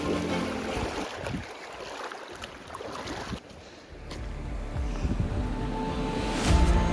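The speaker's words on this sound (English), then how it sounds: "This creek crossing was actually a really nice surprise." Water running and splashing at a creek crossing on a marathon course, a steady rushing wash with wind-like noise and scattered splashes, fairly close and continuous, with no talking.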